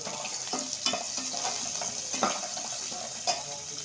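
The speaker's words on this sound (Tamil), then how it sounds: "கொஞ்சம் ஆயில் போட்டுட்டு சோம்பு, ஜீரகம், பட்டை, லவங்கு, ஏலக்காய் எல்லாம் போட்டு ஃப்ரை பண்ணுவோம்" Whole spices such as fennel, cumin, cinnamon, cloves and cardamom crackle in hot oil with onion, a steady close sizzle broken by a few sharp stirring scrapes.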